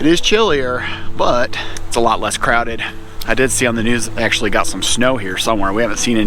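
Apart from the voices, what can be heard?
No everyday noises stand out.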